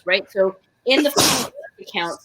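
A single loud, close sneeze bursts out in the middle of a person's speech, with talking just before and after it.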